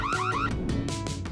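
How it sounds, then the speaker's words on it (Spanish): A home burglar alarm going off, a short burst of rising electronic siren tones followed by repeated bursts. "si entran y activan una alarma que despierta a todos"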